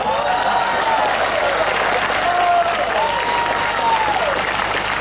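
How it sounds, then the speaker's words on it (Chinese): Crowd applause at a political forum held in a coffee shop in Johor, dense continuous clapping, loud and sustained, with faint tonal sounds drifting over it. "支持女儿支持我们的男人也拍手"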